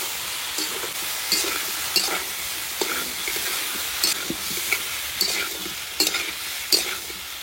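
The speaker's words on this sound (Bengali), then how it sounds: "এবার একটু আলু আর ফুলকপি আর একটু কষিয়ে নেবো।" Potatoes and cauliflower stir-fry in a pan with chilli paste, ginger paste and spices, giving a continuous sizzle broken by repeated scraping strokes of a spatula, close up and with no talking.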